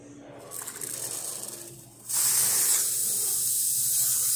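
A loud, steady steam hiss from a Rocket R Cinquantotto espresso machine steam wand bursts on after a softer spraying start, holding strong and continuous without any talking.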